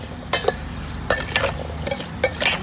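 A spoon or utensil clinks and scrapes against a bowl while tossing a Thai spicy salad of lotus stems, crispy fish, pork sausage and crab sticks, in a few short, sharp bursts of clatter.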